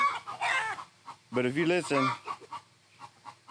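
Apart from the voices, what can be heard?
chickens clucking, roosters around a Buff Orpington hen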